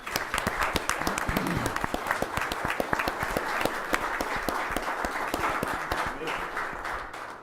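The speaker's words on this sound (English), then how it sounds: "let's give them a round of applause" Steady round of applause from attendees at a county fiscal court meeting, many sharp overlapping claps sustained at moderate level, with people talking underneath.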